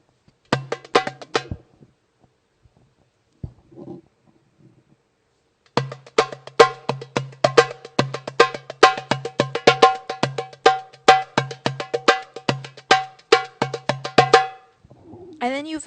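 Hand drum played in a fast Arabic pop rhythm, sharp close strokes in two short bursts, then a long driving pattern of dense rapid hits, with a brief pause between.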